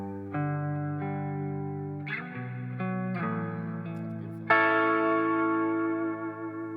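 Clean guitar notes and chords played with hybrid picking through a New Neighbor Wet Mono Reverb pedal ring out with a soft, spacious reverb tail, several plucked phrases layering into a shimmering wash with no voices.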